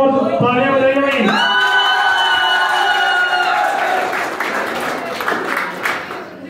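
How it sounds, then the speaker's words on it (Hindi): At a school farewell ceremony, an audience of students applauds a teacher, with loud cheering and shouting voices at first, then clapping that continues more loosely and fades slightly. "सुनील जी सर के लिए बहुत तालियां बजाइए भाई।"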